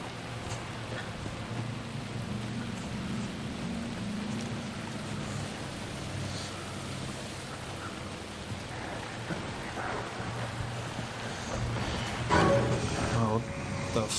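Steady rain pours throughout a dark night scene in the video game Alan Wake II, with a low rumbling bed beneath and a brief louder surge near the end.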